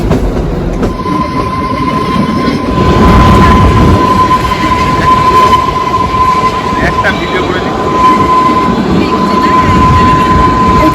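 A toy train on the Kalka–Shimla mountain railway rumbles along loudly and continuously, wheels clattering on the rails with a steady whine over the roar.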